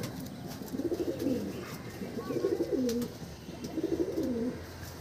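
Andhra pigeons cooing nearby in a loft, three soft, low, rolling coo phrases spaced a second or so apart over quiet background noise with faint clicks.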